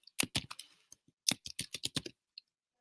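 Keys on a computer keyboard being typed in two quick bursts of clicky strokes, close and clear, with a short pause between and no talking.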